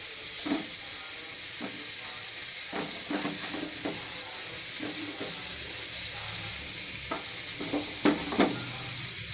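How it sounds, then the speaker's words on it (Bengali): Pointed gourd frying in oil gives a steady loud sizzling hiss, broken by repeated short scraping stirs of a spatula throughout. "তেল দিয়ে পটল ভাজা"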